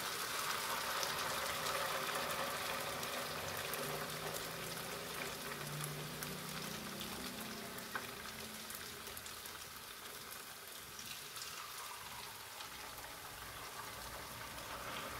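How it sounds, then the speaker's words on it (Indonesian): Tofu batter snacks deep-fry in plenty of oil with a dense, steady crackling sizzle that holds close and even throughout, with no talking. "Kita goreng sampai warnanya kecoklatan ya teman-teman, kuning emas kecoklatan."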